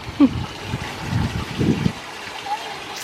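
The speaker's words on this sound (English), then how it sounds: "the rushing water sound" Water rushes and trickles steadily at moderate loudness, with a few soft thuds and faint background noise mixed in.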